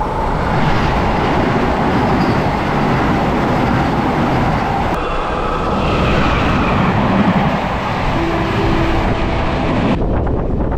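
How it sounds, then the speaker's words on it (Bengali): A Santragachi–Jhargram MEMU train running at high speed, heard from inside a coach as a loud continuous rumble and rush of wheels and wind, steady from start to finish. "ট্রেন কিন্তু দুরন্ত গতিতে চলছে, ব্যাপক চলছে ট্রেন।"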